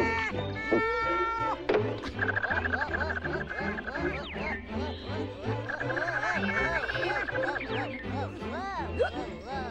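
A cartoon cat meows and yowls again and again across the whole stretch, mixed with other bleating cartoon voice sounds and busy background noise.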